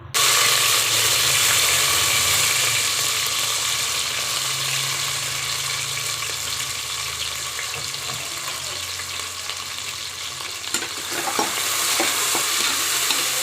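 Onions sautéing in a pan for chicken biryani give a steady, close, loud sizzle with scraping stir strokes and occasional clicks, a little quieter in the middle and picking up again near the end, without talk.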